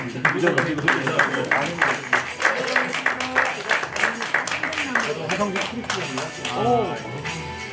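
Clapping from an audience at a year-end awards ceremony in a hall, fairly close and dense, with voices and chatter mixed in throughout.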